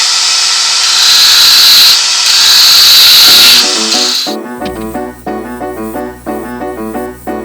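A spindle gouge cuts a thin wooden finial spinning on a lathe, a loud, steady hiss lasting about four seconds before it stops. Ringing, music-like tones follow, with no talking.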